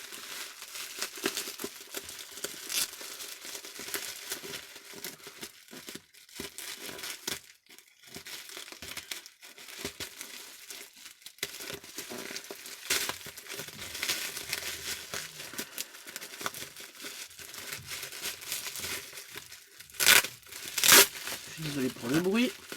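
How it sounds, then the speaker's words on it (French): Bubble wrap and packing tape being cut and torn open during an unboxing, with steady crinkling and rustling, a few sharp ripping bursts near the end, and a person talking intermittently throughout. "je vais tout ouvrir le papier bulle. Je vais essayer de couper tout le scotch"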